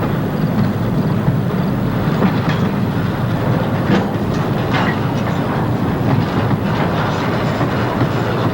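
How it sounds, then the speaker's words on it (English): A D&H freight train of 80 cars backs down the main line past the caboose, a steady rumbling roll with clickety-clack of wheels over rail joints, loud and continuous. "They will then back the train down the main line, past the caboose."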